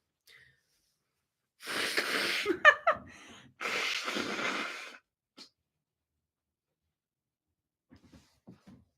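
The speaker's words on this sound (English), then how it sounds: "I don't know how to blow my nose on a live stream." Two long, forceful nose blows in quick succession, close and breathy, followed by quiet with a few faint clicks.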